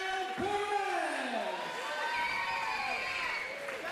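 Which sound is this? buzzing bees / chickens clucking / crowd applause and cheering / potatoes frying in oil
crowd applause and cheering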